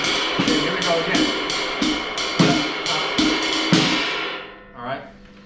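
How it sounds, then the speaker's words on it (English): A jazz melody tapped out on a drum kit ride cymbal, a run of bright, ringing strokes in a melodic rhythm with kit hits underneath, close and steady before the cymbal wash decays away at the end. "Try to interpret the melody on the ride cymbal."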